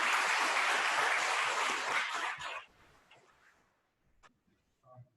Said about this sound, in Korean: 옆에 있는 분들에게 예배에 와서 축하하고 환영한다고 축복의 박수를 드리고 있습니다.